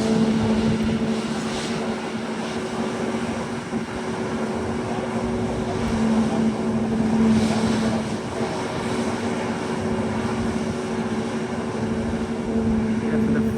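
Steady roaring rush of jet blast or wind near an airport runway while an aircraft holds short, a constant broad drone with a low engine hum throughout.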